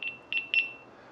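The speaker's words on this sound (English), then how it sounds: "if I turn the beep volume up to high" GoPro HERO12 camera beeping at high volume, three short clear tonal beeps in quick succession, the last one doubled, close and alone over faint room hiss.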